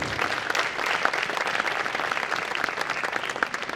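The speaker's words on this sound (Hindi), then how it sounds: "तालियां रुकनी नहीं चाहिए." Dense, lively clapping from an audience at an honours evening as contributors are named, a continuous close wash of many hands without speech.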